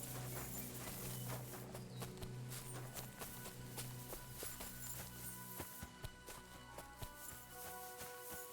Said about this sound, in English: Horse? What's it doing here in the woods?